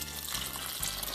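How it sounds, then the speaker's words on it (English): Water is poured into a blender holding sunflower seeds, giving a soft, steady splashing hiss for about a second. It is fairly faint, and no one speaks. "make a batter out of them by adding some water into the blender"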